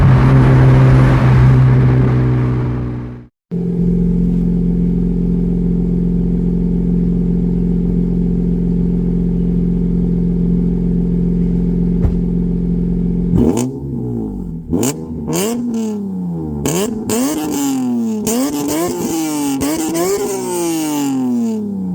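A BMW E46 M3 with a loud aftermarket exhaust idles with a deep, steady rumble, then revs repeatedly, the loud engine note climbing and dropping in sharp bursts.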